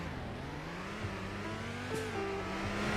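A car in the Roblox game Greenville launches from a standstill, its engine note climbing steadily as it accelerates, loud and continuous with no talking.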